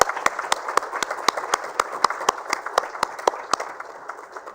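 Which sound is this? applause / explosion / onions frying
applause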